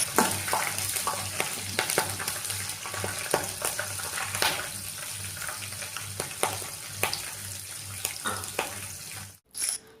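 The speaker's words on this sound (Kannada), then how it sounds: "ಕಡಲೆ ಬೀಜ ಚೆನ್ನಾಗಿ ರೋಸ್ಟ್ ಆದ ನಂತರ ಹಸಿಮೆಣಸಿನಕಾಯಿ ಸೇರಿಸಿಕೊಳ್ಳಬೇಕು." Peanuts and green chillies fry in hot oil for poha tempering, a dense continuous sizzle with scattered sharp crackles and pops and a low steady hum beneath, cutting off abruptly near the end.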